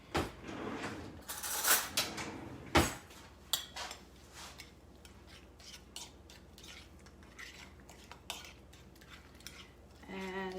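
Seasoning being mixed with a utensil during plant-based meal prep, with clinks of cutlery against a dish and bowl knocks early on, then softer scraping and tapping, close and fairly quiet.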